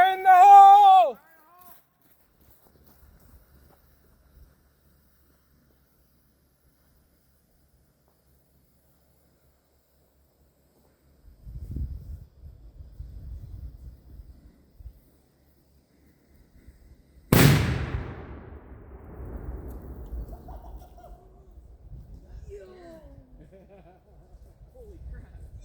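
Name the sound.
signal cannon firing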